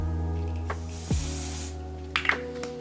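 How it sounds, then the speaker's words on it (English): A single steady hiss of aerosol hair holding spray on a wig, lasting under a second, followed by a few soft clicks and taps, over a low background hum. "I'm just going to run this hold spray over it."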